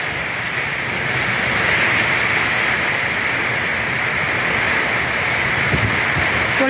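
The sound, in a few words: strong wind and rain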